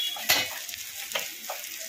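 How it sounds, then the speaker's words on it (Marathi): Masala and brinjal frying in a pan with a steady high sizzle, broken by several scraping stirs of a spoon, one sharp clatter near the start, all close and without voices. "मसाला मस्त फ्राय करून घेऊया 2 मिनिट"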